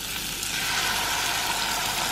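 Eggs for an omelette fry in a hot pan, giving a steady, even sizzle that holds throughout with no talk.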